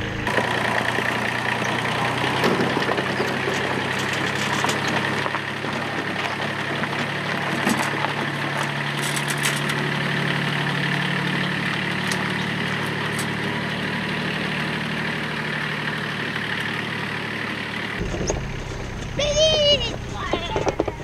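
A car engine runs steadily while driving, a constant mid-low drone with road noise that cuts off near the end, followed by brief clicks and rustling.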